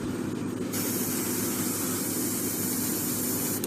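Airbrush or spray can misting paint onto a 1/72 scale X-Wing model, a steady close hiss that runs unbroken, brightening sharply after the first moment and cutting off near the end.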